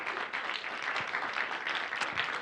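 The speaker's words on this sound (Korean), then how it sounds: "하나님께 영광의 박수 한번 돌리십시다." A church congregation claps together during a Friday worship service, producing even, continuous applause at moderate loudness for a couple of seconds.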